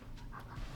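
A dog pants quickly and softly close by indoors, a short run of rapid breaths at low volume.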